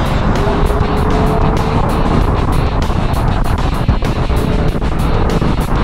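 A Mazda MX5 or Toyota GT86 sports car accelerates, with a loud, constant engine and road roar heard from inside the car and sharp rhythmic ticks or bumps throughout.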